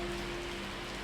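Rain falls in the mountains at Shimla, a steady, dense hiss of drops on surfaces, close and continuous, with no one talking.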